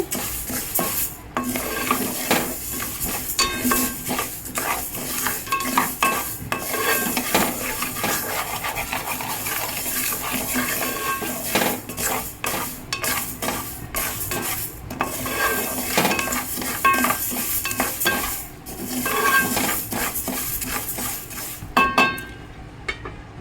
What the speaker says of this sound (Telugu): ఇలా కాస్త దోరగా వేయించుకోవాలి.